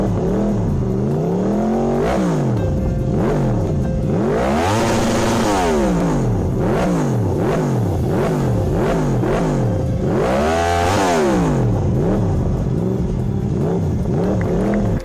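Cartoon-style engine sound effect for a magical electric bike starting and racing: a continuous loud revving motor that rises and falls in repeated sweeping pitch swells, like a vehicle accelerating and zooming past, with no voices.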